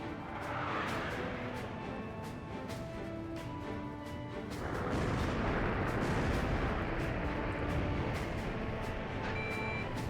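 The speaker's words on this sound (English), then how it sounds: "Bomblet dispenser launch." In the Ace Combat Zero video game, a bomblet dispenser fires, producing a dense rumble of rapid booming impacts that grows heavier midway and keeps rolling, loud and continuous.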